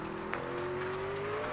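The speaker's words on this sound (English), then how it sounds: "tires just get a little wheel spin, high revs, dirt on the tires." Sim racing car at Sonoma Raceway in a video game, its engine held at high revs during wheel spin with dirt on the tires, a steady, sustained drone at moderate level.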